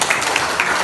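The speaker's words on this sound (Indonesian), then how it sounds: "Berikan tepuk tangan." A classroom of students claps together at a teacher's prompt, a brief, continuous wash of hands clapping at close range, steady and fairly loud with no talking.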